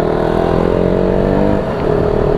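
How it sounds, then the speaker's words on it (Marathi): Continuous road traffic on a busy route to a village during a bank holiday: a loud, unbroken engine drone with rising, revving tones from passing vehicles close by, steady throughout with only a brief dip near the end. "आणि कंटिन्यू ट्रॅफिक आहे"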